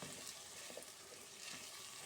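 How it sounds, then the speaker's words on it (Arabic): Soaked, washed and drained rice frying in hot oil, a soft continuous sizzle and crackle with faint stirring, steady and fairly quiet. "وهسه بديت أحمس بيه الرز"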